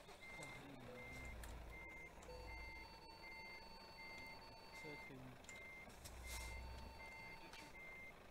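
Steady, evenly spaced reversing beeps from a special-transport truck, sounded while a pilot vehicle backs up in Euro Truck Simulator 2, repeat throughout over a low engine rumble while someone talks.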